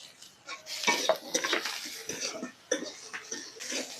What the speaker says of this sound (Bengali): সবজিগুলোকে একটু করে ভেজে নিই